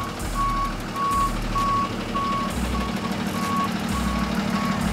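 A tow truck carrying a Mustang reverses, its backup alarm beeping in a steady regular rhythm, loud and close over a low rumbling engine.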